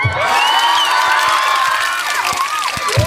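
A crowd at a Miss Gay Bantug Bulalo pageant in Cabanatuan City cheers, whoops and claps all together, a loud, dense roar with sharp hand claps scattered throughout.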